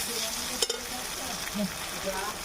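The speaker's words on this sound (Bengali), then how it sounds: "একটু নাড়াচাড়া করে নেব" Banana flower and tomato fry in a pan while being stirred, a soft continuous sizzle broken by scraping stirs and a brief clack, heard up close.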